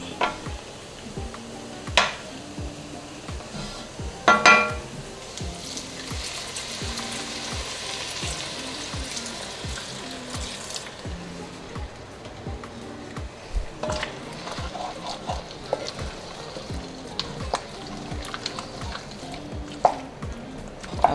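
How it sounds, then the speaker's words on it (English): Beef broth hits a hot pot of browned beef neck bones to deglaze the bottom, giving a steady close sizzle and bubbling hiss with scattered stirring clicks and scrapes throughout. "I'll start by just adding a little bit just so I can kind of deglaze the bottom first before I add it all in there"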